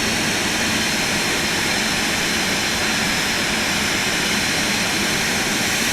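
A Phenom 300E business jet taxis in MSFS 2024, its engines giving a loud, steady, unbroken roar and whine that holds constant throughout with no speech over it.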